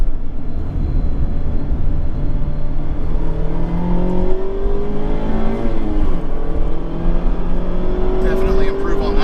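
A stock Mazda ND2 MX-5 Miata on a race track, its engine droning loud and steady with rising and falling pitch through gear changes, up close from inside the car, with a brief higher whine near the end.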